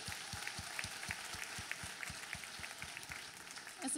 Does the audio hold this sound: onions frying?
no